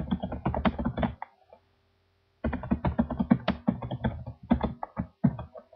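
Quick bursts of typing on a computer keyboard while entering an APA citation in Microsoft Word, with close, crisp key clicks, a short pause, then a longer run of keystrokes.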